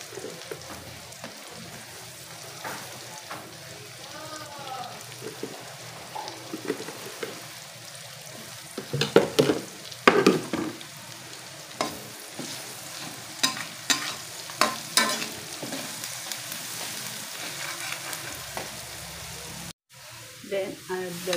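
Onion and garlic frying in butter in a pan, a soft sizzle under scattered stirring clatter and sharper utensil knocks, with a voice talking intermittently.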